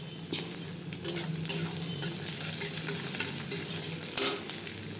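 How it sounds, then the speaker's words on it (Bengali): Onions frying in a home kitchen pan with beaten eggs and chopped green chillies, giving a steady close sizzle with scattered stirring scrapes and a few louder clatters of a spatula against the pan. "এখানে আমি পেঁয়াজ ভেজে নিচ্ছি আর এখানে দুটো ডিম লঙ্কা কুচিয়ে রেখেছি এটাও দিয়ে দিই"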